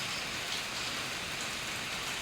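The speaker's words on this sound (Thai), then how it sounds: "ฝนตกฝนตก" Steady rain falls in an outdoor rural setting, a dense, even hiss of drops on surfaces that runs unbroken and close throughout.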